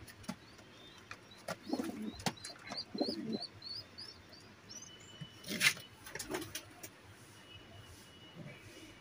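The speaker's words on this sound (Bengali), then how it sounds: "দেখুন পায়রাগুলো" A pair of Giribaz pigeons giving soft, low coos nearby, several murmuring calls spread across the stretch, with small birds chirping faintly in the background.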